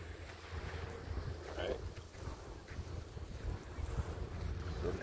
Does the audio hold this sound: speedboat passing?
yes